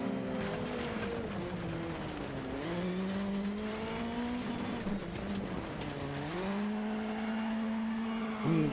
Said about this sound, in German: Oh, und driften kann man diese RX Supercars übrigens auch richtig, richtig schön